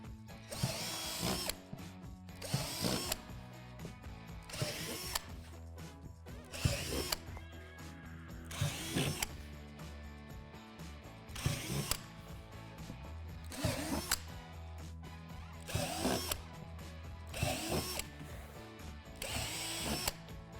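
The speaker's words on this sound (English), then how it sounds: "Using a 3/8 drill bit, drill out all the 11 holes on the deck, making sure to drill from the top down" A power drill fitted with a 3/8 bit bores holes down through a play tower's deck panel, in roughly ten separate whirring bursts of a couple of seconds each, spaced by short pauses, close and alone.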